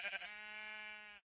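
A single sheep in the Minecraft video game gives one clear, drawn-out bleat, close and alone, lasting about a second before cutting off.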